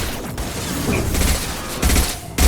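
Gunfire from a squad firefight in Mass Effect 2, with several heavy bursts of shots and impacts rising over a dense, noisy combat background, the loudest burst closing the moment.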